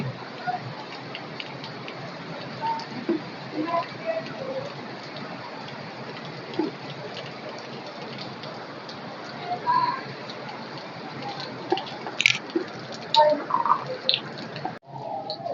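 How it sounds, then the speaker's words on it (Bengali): Heavy rain falls over a village, a dense steady hiss of drops on surfaces with a few louder splashes, continuous and close. "এত বৃষ্টি"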